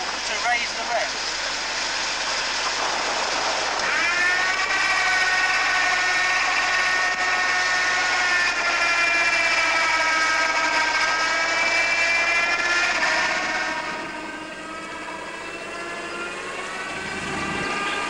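A vehicle engine held at raised revs with a remote choke control to drive a winch, a loud steady mechanical drone whose pitch climbs and holds, then drops away near the end as the revs fall.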